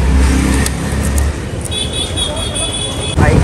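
A KTM motorcycle started with its electric self-starter: loud, close mechanical whirring and a rising whine as the engine catches, over steady road-like rumble.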